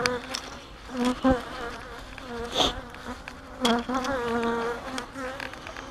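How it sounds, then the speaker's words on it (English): Honeybees buzzing around an open hive brood box, a steady droning hum with several bees passing close and loud, their pitch wavering as they fly by. "There's a bunch of bees in that brood box down there."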